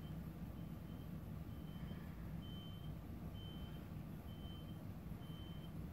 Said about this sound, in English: I keep having to stop because of these stupid trucks.